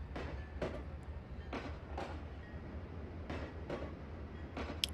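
A GP40-2 and an ES44 DC diesel locomotive haul a freight train with open hoppers in the Trainz 2022 simulator, a steady low rumble with repeated clickety-clack wheel beats over rail joints, faint and continuous.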